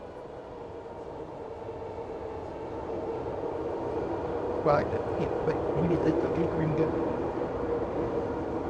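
A train in Kensington gives a steady, loud rumble that builds slightly as it passes close by, while people talk over it.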